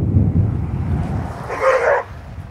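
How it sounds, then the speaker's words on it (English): Dog barks at a passing truck, a short burst of barking rising over steady low rumble of the vehicle going by, fairly near. "Yep, he watches the car and barks"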